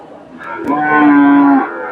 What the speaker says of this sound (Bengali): ফ্রিজিয়ান জাতের প্রচুর বোকনা গরু আছে